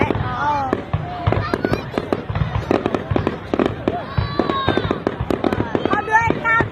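Lunar New Year fireworks crackle and pop in rapid, dense bursts of sharp bangs, loud and continuous, with people talking and exclaiming over the barrage.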